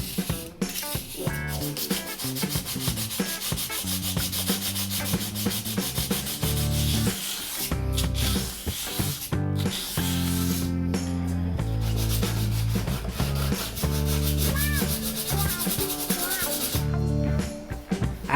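Filler being sanded by hand during bathroom prep, a close, continuous scratchy rubbing in irregular back-and-forth strokes with brief pauses, no talking.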